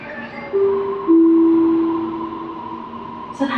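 A Bangkok MRT Blue Line metro train runs with a clear electric motor whine: steady humming tones that swell and hold, then slowly fade, with a brief rustle of noise at the end.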